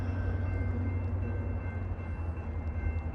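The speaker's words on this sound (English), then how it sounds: "this time the train's going to come past us" A freight train rolls past close by in Kenova, West Virginia, with a loud continuous rumble of wheels and cars and a steady low drone throughout.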